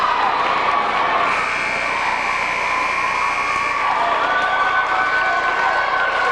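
A crowd at a high school basketball game between Gate City and John Battle roars and cheers continuously and loudly in a gym, with shouting and a rising whistle-like tone over the din.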